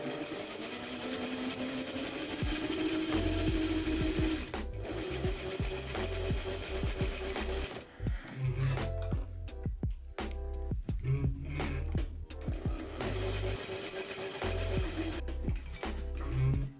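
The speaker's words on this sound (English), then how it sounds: "I'm gonna put the darts in, then the shoulder seams, and I'm gonna overlock in between stages as well." Overlocker sewing machine stitching dress seams, with long bursts of fast, buzzing mechanical whirring broken by short pauses and clicks, close and loud with no talk.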